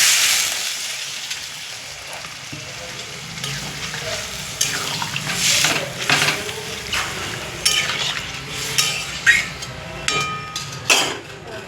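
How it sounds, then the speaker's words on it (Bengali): Water poured into a hot cooking pan, a broad hissing sizzle with stirring clatter and scraping bursts that grow busier toward the end, close and fairly loud with no talk. "এবার আমি জল দিয়ে দিচ্ছি।"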